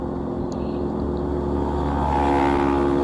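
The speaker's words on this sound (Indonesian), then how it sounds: "Angin yang kena muka, suara mesin yang konsisten" Steady motorcycle engine drone while riding through Jakarta traffic, a continuous close hum with harmonic layers that swells slightly louder toward the end, no voices.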